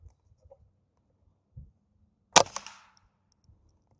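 A single sharp rifle shot fired through a budget scope during sight-in, loud and close with a brief ringing decay, set among a few faint clicks and handling noises in an otherwise quiet outdoor scene.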